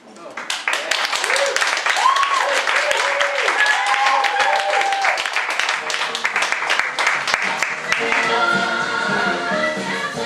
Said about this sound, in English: I need you guys to keep that clapping going